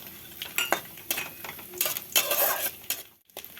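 Cashews and raisins frying and being stirred in a pan as part of a sabudana pulao with browned coconut: a steady sizzle broken by repeated scraping and clinking of a spoon against the pan, close and fairly loud, with a brief pause near the end.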